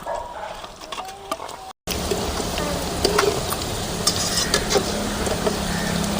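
Onion pakoda frying in hot oil for crispy pakoda: a steady, close sizzle with scattered crackles and a faint stirring clink, cut by a brief dropout near the start, with no talk.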